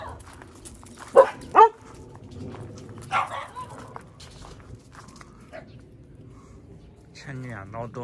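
Several dogs bark in a couple of sharp, close bursts against a busy outdoor morning background, with people talking.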